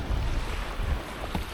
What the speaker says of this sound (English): the waves are coming in a tiny bit further each time